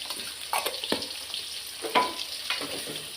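Onion and green chili sauté with turmeric in hot oil, giving a steady sizzle broken by several sharp scrapes and clinks of a spoon stirring the pan, close and fairly loud.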